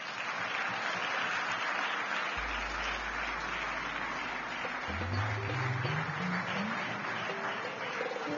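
An audience at a Nigerian forum on governance and democracy applauds steadily after a speech, sustained clapping with a low hum underneath and no voices.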